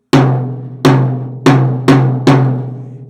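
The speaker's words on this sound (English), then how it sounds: "Here's my tom here." Tom drum on a live kit being tuned, struck five times at a steady moderate pace, each hit loud and close with a booming attack and a ringing tail that sags slightly in pitch, no voices.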